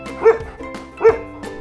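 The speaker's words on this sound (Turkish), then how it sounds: "Köpekler hav hav diye havlar." A dog gives two short barks about a second apart, fairly close and clear.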